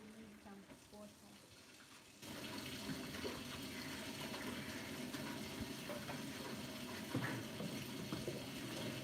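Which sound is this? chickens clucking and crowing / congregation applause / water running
water running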